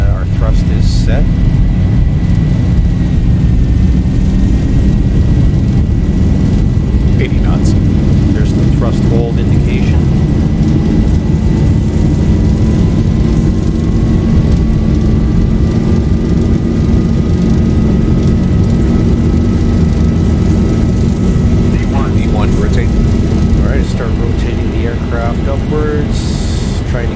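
The jet engines of a Boeing 737 in the X-Plane 11 flight simulator hold takeoff thrust, a loud, constant roar with a slowly rising whine. A person talks over it throughout.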